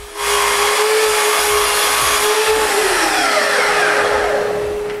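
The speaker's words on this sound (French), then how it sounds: "Je commence par couper la planche de 16 pieds à 87 pouces." A power saw rips through a 16-foot board to cut it to 87 inches, a loud close whining buzz starting abruptly and holding steady, its pitch sagging slightly as the blade bites through the wood before trailing off.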